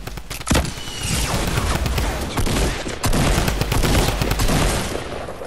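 Rapid gunfire in a Fortnite battle royale match, dense bursts and single shots crackling almost without pause, loud and close, with a couple of heavier blasts.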